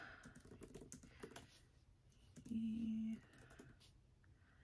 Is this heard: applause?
no